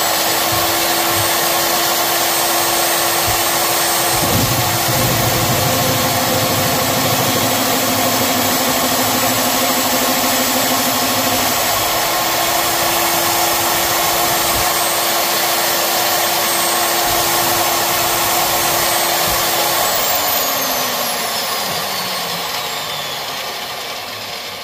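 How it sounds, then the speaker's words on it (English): An old-school 3/4 inch drill runs continuously with a steady, loud motor whine that holds its pitch for most of the span, then winds down and fades toward the end. "This drill is like it's a 3/4 inch, and it's old school."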